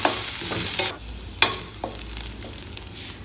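Close-up sizzling of shallots frying in a pan, with a few scraping stirs of a utensil and a steady hiss underneath.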